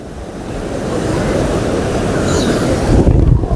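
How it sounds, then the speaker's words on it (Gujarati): Sea waves roll in and crash on a sandy shore beside a seaside temple, a loud, close, continuous surf roar that swells toward a heavier break at the end. "સામેની સાઈડમાંથી ભાઈ મોજા ઉછલીને આવી રહ્યા છે ભાઈ પાણી"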